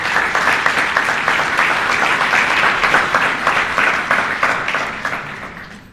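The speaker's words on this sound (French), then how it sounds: "On applaudit Alain." Steady, dense audience applause at a book launch about horse racing in Mauritius, many hands clapping together loudly and evenly for several seconds before it begins to taper off.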